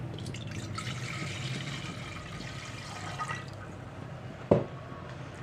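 Water splashes steadily into a pressure cooker set on a gas stove for cooking toor dal, a close pour lasting a few seconds, followed by a single sharp metallic knock.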